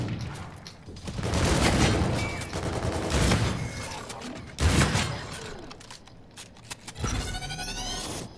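Shotgun blasts in a video game ring out as several sharp, heavy bursts spaced a second or so apart, with a quieter burst of gunfire near the end and no talking over them.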